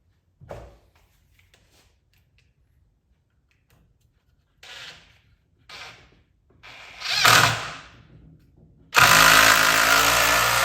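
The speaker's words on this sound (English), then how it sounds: "we're going to pre-drill some holes" A power drill pre-drills holes in wood, whirring in short bursts separated by quiet pauses, with a longer, louder drilling run toward the end.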